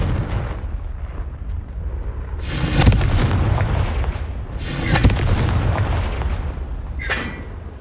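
The Confringo blasting spell goes off in Hogwarts Legacy in two big, loud booming explosions a couple of seconds apart, followed by a smaller crackling burst over a steady rumbling background.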